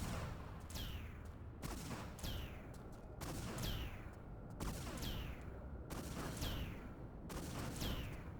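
Enemy gunfire in Tomb Raider 3 cracks out in repeated bursts, roughly one every second or so, loud and close over a dense rumbling background, with no talking.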